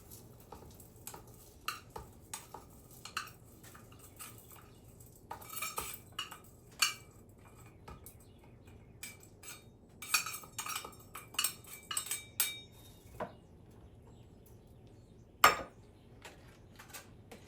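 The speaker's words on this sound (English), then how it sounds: "just continue to stir until it's melted" Beeswax pellets are stirred as they melt in a pot for candle making, heard as faint, scattered metallic clinks and scrapes of a utensil against the pot, with one sharper knock near the end and quiet gaps between.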